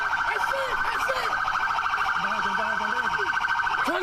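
A police car siren wails in a cycling, warbling pattern, loud and close, with shouted voices breaking in over it.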